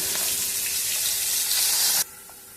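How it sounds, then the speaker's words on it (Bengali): A fish head frying in oil with salt and turmeric gives a loud, steady hiss and crackle that runs on for about two seconds, then cuts off abruptly to near quiet. "একটু নুন হলুদ দিয়ে মাথাটাকে ভেজে নিচ্ছি"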